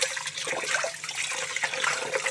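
Goat head meat rinsed under a running tap, with steady splashing water and handling noises throughout, close and moderately loud.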